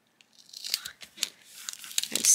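A strip of regular clear tape is pulled and torn off the roll, giving a series of close, sharp crackling rips and crinkles that build toward a louder final tear.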